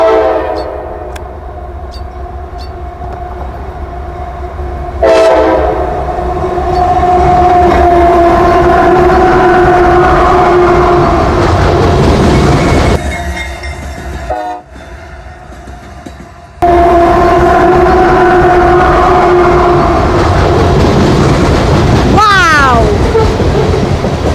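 A CSX freight train led by an SD40-3 locomotive rumbles past close by and loud, its horn blaring in long blasts over the steady rolling clatter of the cars.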